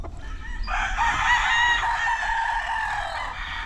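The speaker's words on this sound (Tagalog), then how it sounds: "sarap sarap ng mga tinig ng mga manok" A rooster crows loudly and close by on a farm in one long drawn-out call, with softer clucking and low background noise around it.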